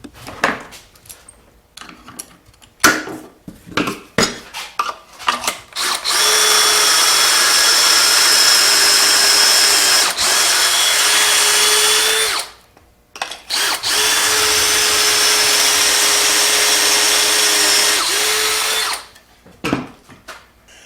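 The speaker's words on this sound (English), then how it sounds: "we're going to drill 2 holes on this angle" A power drill bores two angled pocket holes in wood through a pocket hole jig, two sustained whining runs of several seconds each separated by a short pause, framed by clicks and handling knocks.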